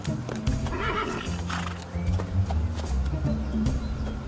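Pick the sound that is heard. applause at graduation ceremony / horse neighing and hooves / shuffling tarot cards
horse neighing and hooves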